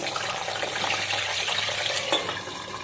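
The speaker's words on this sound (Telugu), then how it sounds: "ఇప్పుడైతే ఆయిల్ వేడైపోయిందండి. మనం కొద్దిగా వంకాయలు ఇలా వేసేసుకుని" Eggplant pieces fry in a little hot oil, a dense, even sizzle with soft scraping stirs running through the whole short stretch, close and with no voices.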